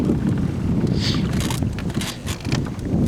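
Strong wind gusting over a lake at Tichigan Lake, Wisconsin, during fall bluegill fishing, a loud continuous low rumble buffeting the microphone, with faint splashing and knocking sounds and no voices.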